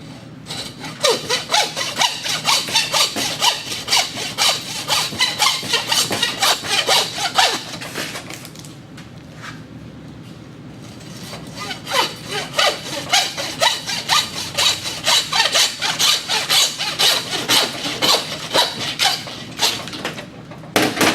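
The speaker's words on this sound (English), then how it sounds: "come in from the back at an angle and saw it off" A hand saw cuts through a deer skull behind the antlers in fast, rhythmic back-and-forth strokes, close and raspy, with a short pause midway before the sawing resumes steadily.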